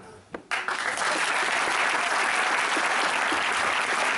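Wedding fair audience bursting into loud, dense applause after a brief quiet moment, the clapping sustained and even to the end.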